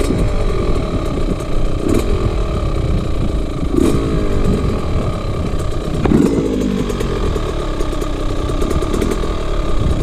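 A Yamaha YZ 65 dirt bike engine runs close and loud, a steady buzzy two-stroke idle with a few brief revs and clunks as gears are shifted.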